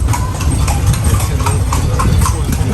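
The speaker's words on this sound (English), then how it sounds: "Horse carriage." Horse carriage hooves clip-clop in a quick, even rhythm over a loud idling engine rumble, close by on a busy street in Cartagena, Colombia.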